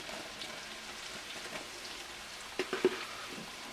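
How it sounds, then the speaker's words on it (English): Onions sweating in grease and butter in a pan give a soft, steady sizzle, with a few faint stirring taps near the end and no talking. "Let these onions sweat just a little bit more in this grease and butter"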